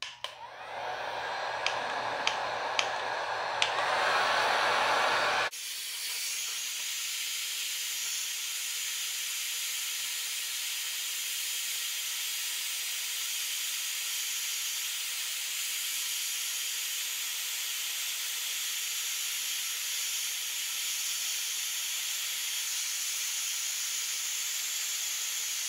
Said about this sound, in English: I'm just going to go ahead and crank it on to the highest setting and see what happens.